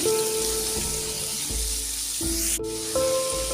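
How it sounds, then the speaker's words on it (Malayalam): Sliced onions sizzle in hot oil with ginger and garlic for a chicken curry, a steady close frying hiss with a few stirring scrapes and a brief metallic clink partway through. "ഞാൻ അരിഞ്ഞ് വെച്ചിരിക്കുന്ന സവോള അതിലേക്ക് ചേർത്ത് കൊടുക്കാം"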